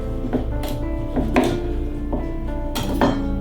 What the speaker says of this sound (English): we're going to cut the head off